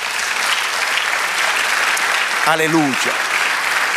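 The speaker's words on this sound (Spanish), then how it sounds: "Denle un aplauso al Señor." A church congregation applauds during a sermon, steady dense clapping throughout with a single voice calling out briefly over it.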